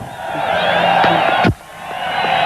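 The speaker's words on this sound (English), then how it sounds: "big wave for the crowd here on Mobile Mountain, and the crowd love it" A race crowd at Pukekohe's Mobile Mountain cheers and roars as the winning Aussie V8 driver waves, a sustained swell of voices that cuts off sharply, then slowly builds again.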